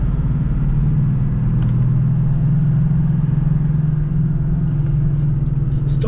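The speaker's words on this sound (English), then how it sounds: "Stock exhaust on this thing, just all engine noise." Steady, close engine drone from a Toyota Land Cruiser troop carrier with its stock exhaust, a constant low hum with slight swells, heard alone.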